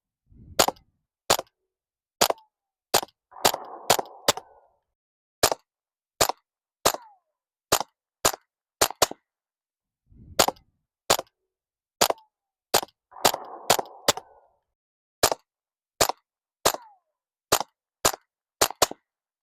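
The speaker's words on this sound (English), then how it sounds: "Now the first shot is always louder because there's oxygen in the suppressors in between the baffles." Suppressed gunshots from an Otter Creek Labs and a Lone Star suppressor, fired as a long series of sharp, evenly spaced cracks with a few brief pauses and small bursts of ringing between shots, with no talking.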